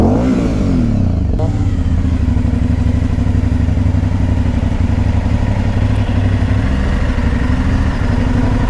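A loud Aprilia Shiver 900 motorcycle engine runs close by with a steady rev and rumble, a brief rise in pitch near the start.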